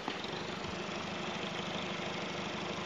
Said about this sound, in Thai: สตาร์ทเครื่องยนต์เลยครับ